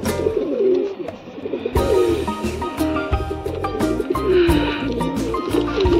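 Pigeons coo in soft repeated throaty phrases close by, with rustling and faint chirps around them.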